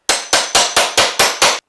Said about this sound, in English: and you can knock it into place